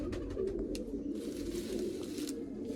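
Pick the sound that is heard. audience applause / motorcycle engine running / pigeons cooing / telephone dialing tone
pigeons cooing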